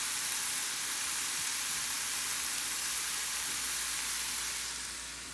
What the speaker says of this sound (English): I'm starting by just sauteing some frozen broccoli in my pan